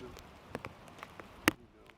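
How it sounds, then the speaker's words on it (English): Rain falling at a campsite, a quiet, steady patter with scattered louder drops landing close by, one sharper drip standing out midway, alone with no talk. "It's been raining since yesterday, and the forecast says it's going to rain like for the next 3 days."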